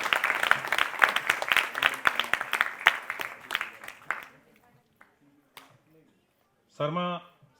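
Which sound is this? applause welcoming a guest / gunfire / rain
applause welcoming a guest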